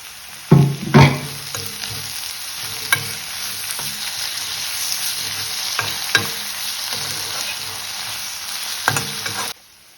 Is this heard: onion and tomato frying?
yes